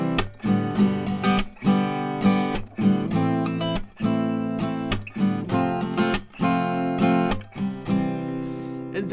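Guitar strummed through a chord progression, in a steady down-down-up pattern broken by hand claps, bright and full throughout with rhythmic dips between strokes.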